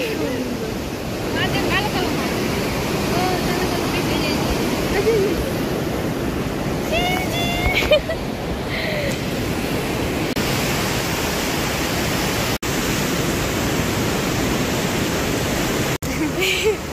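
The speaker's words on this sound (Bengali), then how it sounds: "কত সুন্দর স্রোত আসছে, এত দূরে দূরে স্রোত আসছে" Ocean waves surge onto the shore in a constant loud, hissing roar, with faint voices and birds in the background.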